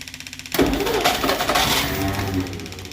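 A 1963 Studebaker Champ pickup cranking: quiet rapid ticking first, then a loud burst of the starter churning the engine over in steady pulses, close by.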